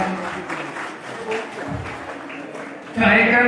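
An audience at a school annual function breaks into applause, building from a moderate patter to a louder burst near the end.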